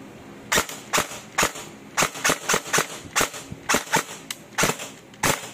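Airsoft AK rifle test-fired outdoors, sharp snapping shots in quick irregular bursts of single and double cracks, loud and close with no talk over them.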